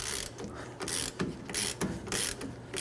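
A hand ratchet loosens the lower brake caliper bracket bolt on the rear brakes of a Nissan Frontier pickup, giving loud, close, rhythmic clicking pawl strokes in repeated bursts with short gaps.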